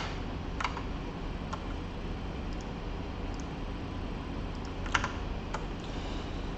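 Someone types a command on a computer keyboard while deploying a React front end app, giving light, sparse key clicks over a steady hiss of background noise.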